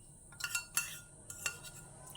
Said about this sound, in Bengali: সব দিয়ে একসঙ্গে ভালোভাবে মিশিয়ে নিচ্ছি